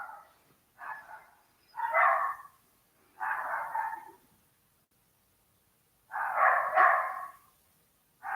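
A dog barks outdoors in a natural setting, five separate woofs and short bark bursts spaced a second or so apart, moderately near and clear against a quiet background.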